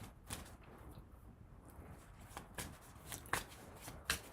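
Tarot cards are shuffled on a surface, soft riffling and slapping bursts with a few sharper snaps, quiet and close with no speech.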